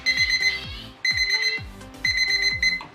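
A small kitchen timer set for ten minutes goes off with a loud, close electronic alarm, sounding three repeated bursts of rapid beeps about a second apart, with no voices.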